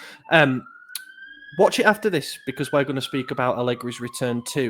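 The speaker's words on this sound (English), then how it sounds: "Apologies if you can hear a siren outside." A siren in London wails faintly in the distance outside, a long gliding tone beneath someone talking steadily in the foreground.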